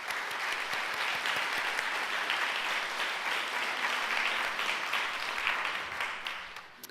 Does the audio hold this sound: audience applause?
yes